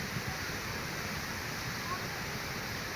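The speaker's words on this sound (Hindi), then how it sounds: "पहाड़ों से किस तरह से ये पानी नीचे आ रहा है" Floodwater pours down from the mountains during heavy rain in Himachal Pradesh, India, making a loud, steady, close roar of rushing, churning water that holds constant from start to end without a break.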